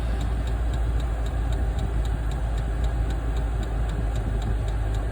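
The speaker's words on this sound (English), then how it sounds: "First test of the Chinese diesel heater is a success." A Chinese diesel heater in an RV runs steadily, producing a constant loud broadband hum with a faint regular ticking pulse throughout, and no pauses.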